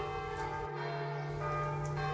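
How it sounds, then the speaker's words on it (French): Church bells toll for a funeral, a steady ringing with sustained, overlapping tones that hang in the air throughout, heard alone with no voices. "La mort se réveilla au son des cloches qui annonçaient l'enterrement du maréchal Ferrand et de la vieille Sidon"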